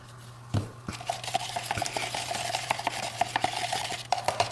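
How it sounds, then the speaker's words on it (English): A handle end stirs a paste of paint and baking soda in a bowl, making close, rhythmic scraping and light clinking strokes against the container throughout. "I think I'm just going to use the end of my handle. Mix it together."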